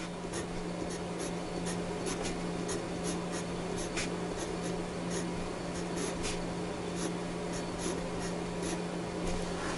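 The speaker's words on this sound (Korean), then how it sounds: "고딕체 스타일로 한번 글씨를 써볼까요?" A pen scratches steadily across paper while Gothic-style lettering is hand-written on an architectural drawing: short, quick strokes repeat close up over a constant low hum, with no talk.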